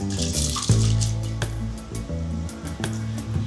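Water, one litre of it, poured into a pot on the stove while making homemade mutton haleem, heard as a close, continuous splashing pour with a brief gurgle, with no one talking.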